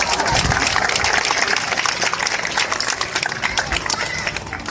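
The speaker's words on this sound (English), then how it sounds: "Give him a nice round of applause." An audience at an aquarium show claps for a dolphin, giving a dense burst of applause that holds steady for several seconds, heard close and fairly loud.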